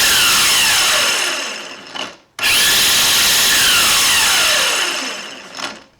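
A high-pitched whirring Milwaukee cordless Quik-Lok edger attachment runs on its high setting in two long bursts, whining down briefly in between.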